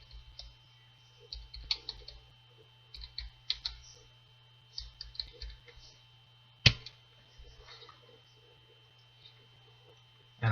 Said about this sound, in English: Get it typed in here.